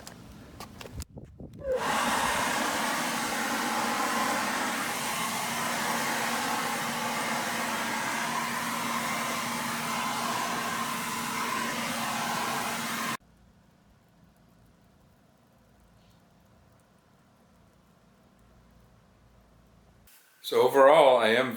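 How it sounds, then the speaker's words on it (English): A Ryobi 40V battery leaf blower runs during yard cleanup after hedge trimming, a loud, steady, breathy whoosh lasting several seconds before cutting off to quiet, with brief noise again at the end. "Probably get a little action out of the Ryobi blower as I do so"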